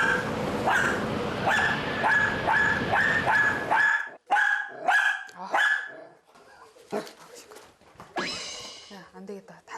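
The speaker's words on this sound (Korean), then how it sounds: "계속 짖죠?" A small dog barks incessantly in a home, rapid high yaps repeating without pause, then breaking into scattered barks and whimpers as people talk over and around the noise.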